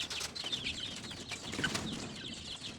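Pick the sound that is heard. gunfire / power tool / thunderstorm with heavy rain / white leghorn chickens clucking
white leghorn chickens clucking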